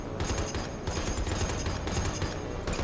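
Aircraft gunners in the War on the Sea video game fire machine guns in continuous rapid bursts, loud and sustained throughout.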